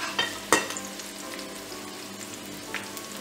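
Ingredients softening over low heat in a frying pan give a soft, steady sizzle, with a couple of sharp utensil taps near the start and faint crackles.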